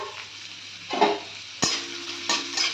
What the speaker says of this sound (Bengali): এবার এর মধ্যে আমি একটু গাজর কুচি দিয়ে দিলাম,